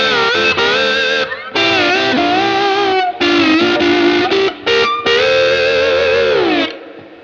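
Loud overdriven slide guitar plays a lick of sliding two-note chords, with short gaps between phrases and a fading final note.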